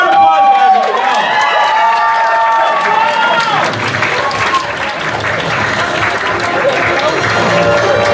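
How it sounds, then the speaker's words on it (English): A large anime convention crowd at Anime Boston 2024 applauds and cheers during a game show, loud and continuous, with whoops and shouted voices rising over dense clapping. "Give a round of applause, guys."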